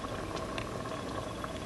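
Soft, continuous bubbling and simmering of a vegetable hot pot cooking in a closed pot, faint and steady with small pops.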